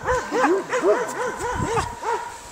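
Dogs bark in quick, yappy bursts while chasing each other, a rapid run of close, high barks with a few whimpering yips.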